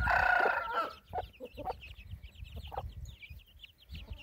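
Clucking from a hen with her brood of chicks about a month old, hatched from twelve eggs on a farm; a loud burst of clucking at the start, then softer scattered clucks and peeps close by.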